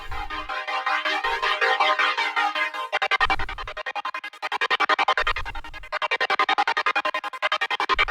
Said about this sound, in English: So a very distinct gated effect